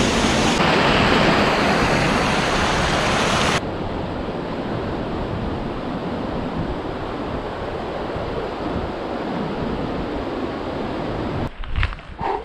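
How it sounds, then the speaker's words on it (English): A loud, steady rush of falling water roars continuously without a break, with a brief burst of buffeting wind noise near the end. "Good waterfall there."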